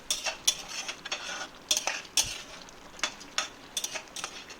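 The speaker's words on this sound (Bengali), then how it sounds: "এটাকে আমি একটু ভালো করে মাংসটার সঙ্গে মিশিয়ে নিচ্ছি সব কিছু" Spoon scraping and clinking in a pan as chicken is stirred and mixed with coriander leaves, a series of sharp irregular scrapes and taps over a faint sizzle, close and with no one speaking.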